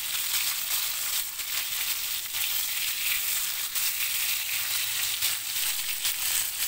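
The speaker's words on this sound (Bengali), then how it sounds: "দেখো, মাছগুলো ভাজা হয়ে গেছে।" Fish frying in hot oil in a wok, a dense, continuous crackling sizzle heard close up and fairly loud throughout, with no talking.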